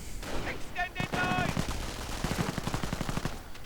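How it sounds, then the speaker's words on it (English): MP40 submachine guns and rifle grenades in a WWII video game: rapid bursts of automatic fire with sharp cracks and blasts, continuous and close, under a voice talking over the action. "Opening up on these false grenadiers with the MP40s, rifle grenades flying through, doing a bit of damage."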